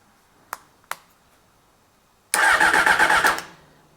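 Honda CBR600 motorcycle engine cranking on the starter for about a second, a rapid buzzing whir after two sharp clicks, close and loud, then cutting off.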